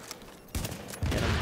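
Rapid video game gunfire in a team shooter match: after a near-silent start, loud crackling bursts break in, then swell into a dense, continuous volley that holds to the end, with no voices over it.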